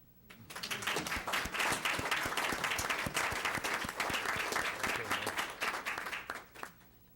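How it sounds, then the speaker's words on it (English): Applause rises quickly from a village board meeting audience as a firefighter is called up, holds steady with distinct individual claps, then tapers off to quiet. "You can applaud."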